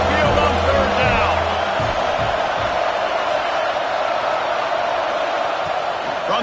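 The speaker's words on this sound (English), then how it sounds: "The tide crowd rolling noise down on the Saban field on third down." An Alabama stadium crowd in a college football video game roars loudly on third down. The dense, sustained wall of noise sits under a play-by-play voice.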